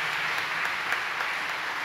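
Audience applause at a high school fall choir concert, a steady, dense wash of clapping that holds evenly through the short moment without voices.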